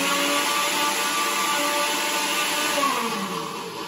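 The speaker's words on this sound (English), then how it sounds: "You put it in the blender." Small blender whirring steadily as it blends cheese, onions and wine, a continuous motor whine held for several seconds and easing slightly at the end, with no talk over it.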